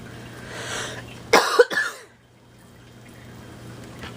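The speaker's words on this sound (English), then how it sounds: "I think my cough is getting better." A single sharp cough followed by a quicker second one, close and fairly loud, against a quiet room with a low steady hum.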